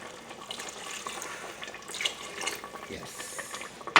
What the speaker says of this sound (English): I'm gonna add more water, just half a cup.